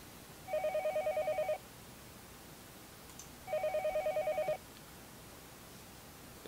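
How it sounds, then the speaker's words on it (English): A telephone rings in the Higurashi When They Cry Hou visual novel game: two electronic ring bursts, each about a second long, separated by a pause over a faint background hiss. "Phone suddenly rang."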